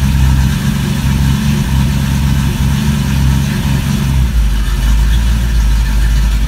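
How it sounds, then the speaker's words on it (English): A car with a 30-over 283 V8 runs close by on choke, a loud, steady, deep rumbling idle with a rough low-end throb that settles slightly partway through, with no talking. "That motor's a 30 over 283."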